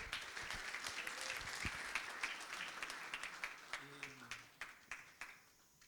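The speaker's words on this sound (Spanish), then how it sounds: "Así que un aplauso." Audience at a game design talk applauds as the next speaker is introduced, a dense round of clapping with a voice briefly heard underneath, thinning into a few separate claps before stopping.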